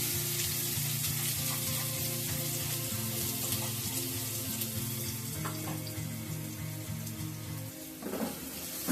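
Three finely chopped onions fry in two spoons of white oil in a pan. A soft, even sizzle runs quietly throughout with faint tonal background sounds, and a brief clatter comes near the end.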